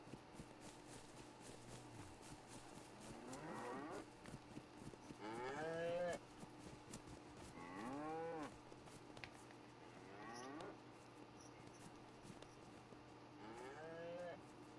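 A cow in the video game DayZ moos repeatedly in the dark, five or six drawn-out lowing calls spaced a few seconds apart, mid-distance over a steady background hum.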